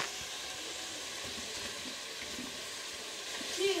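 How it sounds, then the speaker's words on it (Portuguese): Linguiça sausage sizzles in a pan while a simple stuffed pasta lunch is cooked, a continuous soft crackling hiss that stays steady and fairly quiet, with a slight swell at the end. "Agora eu vou colocar a linguiça."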